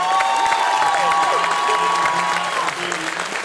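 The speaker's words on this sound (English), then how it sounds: "let's give her a big round of applause for being here" Crowd applause and cheering at a theme park event for a ride reveal, loud clapping with whoops and shouts close by, whistling tones gliding over the din throughout.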